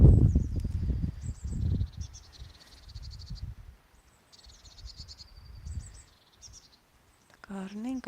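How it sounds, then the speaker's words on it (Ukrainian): A small black bird in a German park that was once a cemetery repeats bright, high chirping calls in short bursts. Someone talks nearby at the start and in between. "чорненька пташечка."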